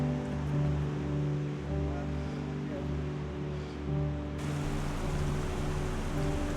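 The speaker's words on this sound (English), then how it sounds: "Eventually, we came to a troll bridge overlooking a beautiful waterfall" Steady, loud broadband rush of a waterfall seen from a bridge on a snowy winter road trip, continuous and full throughout, with a low rumble growing heavier toward the end.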